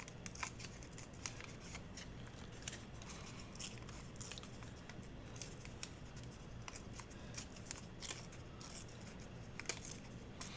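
Paper being torn by hand for a crafting project, a continuous faint crackling and ripping texture with frequent short tearing bursts throughout, close and quiet with no talk.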